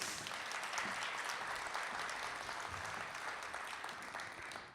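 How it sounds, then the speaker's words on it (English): Sustained applause from an audience at a children's advocacy center storytelling event, steady and fairly even throughout, tapering slightly at the end. "Another round of applause for Heather Hudson."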